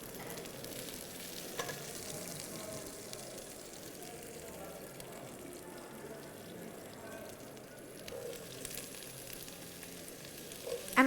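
Onions fry in a very hot pot, a dense, even sizzle holding steady for several seconds with people talking over it.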